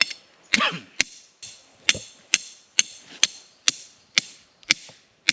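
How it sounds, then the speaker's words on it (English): Sharp, evenly spaced hammer blows drive a 2-foot metal rod into the ground outdoors, about ten loud metallic impacts roughly every half second, each ringing briefly, with one early strike carrying a descending ringing tone and no talking. "So we're just going to use a piece of rod here, and then we're going to drive it in."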